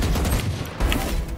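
Rapid bursts of gunfire from a round of the video game Valorant crackle in a dense, continuous fusillade, loud and close.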